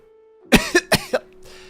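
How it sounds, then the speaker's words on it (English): Four sharp coughs in quick succession from a single person, close and fairly loud, with a faint steady hum underneath and quiet afterward. "especially with my cough"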